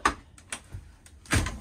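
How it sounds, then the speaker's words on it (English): RV emergency fire exit window on a 2024 Cruiser RV Avenir A-17BH bunkhouse travel trailer popped open, giving a few short, close clicks and clunks, with a sharper latch snap near the end, no talking. "You're just going to pop this guy open right here."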